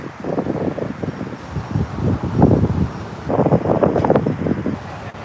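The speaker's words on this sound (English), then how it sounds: "It's windy, man. It's windy out here." Gusty wind buffets the microphone in low, rumbling surges that rise and fall throughout, with no other clear sounds over the roar.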